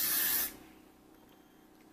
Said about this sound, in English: I'm gonna take some of the holding spray, I think that's, oh, the blast and freeze spray